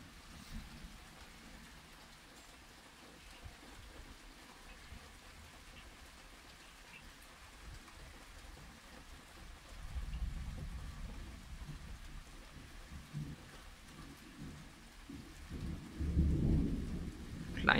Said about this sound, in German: Kleines Gewitter nur.